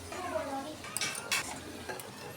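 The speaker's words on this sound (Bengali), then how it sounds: "এখন আমি নাড়া দিয়ে দেবো, মাঝে মাঝে নেড়ে চেড়ে দেবো" Potatoes fry in a pan with a soft sizzle while a utensil stirs them, scraping and clinking against the metal in a few sharp bursts over the background frying.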